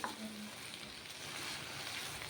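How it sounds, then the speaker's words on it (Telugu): Onions sizzling in a pan for a masala dal curry: an even, close crackling fry that holds steady throughout, with no talking. "ఉల్లిపాయలు మనకు కనపడుతున్నాయి చూడండి ఇదే విధంగా ఉండాలి ఉల్లిపాయలు"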